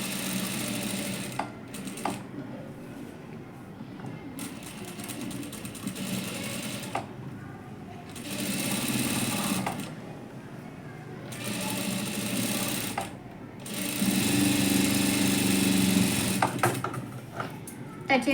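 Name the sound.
sewing machine stitching a blouse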